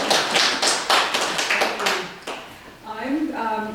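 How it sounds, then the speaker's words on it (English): Brief burst of audience applause for Monica at a TED-style talk, a quick run of claps for about two seconds, then fading as a voice begins speaking. "And applause for Monica."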